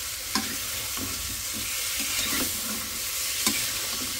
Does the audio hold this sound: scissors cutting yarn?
no